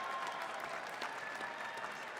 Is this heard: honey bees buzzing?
no